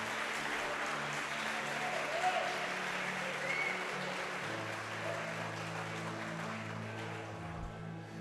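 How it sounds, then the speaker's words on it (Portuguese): A church congregation applauds, a continuous wash of clapping heard at a steady, moderate level with a faint murmur of voices beneath. "Você vai aplaudir, aplaude com vontade."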